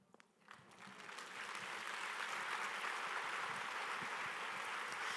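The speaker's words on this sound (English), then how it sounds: "We can do better with the claps." Audience applause at a women's business forum in a church setting, starting thin and swelling within a second into full, sustained clapping from a large crowd that continues steadily to the end.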